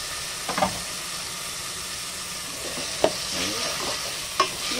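Chicken pieces sautéing in oil in a pan for sotanghon soup: steady close sizzle and frying hiss, with brief clinks and stirring scrapes of a utensil against the pan.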